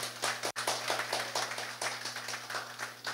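An audience applauds at an opening event for a pharmacy, with steady scattered clapping heard at a moderate distance over a constant low electrical hum, and one brief dropout early on.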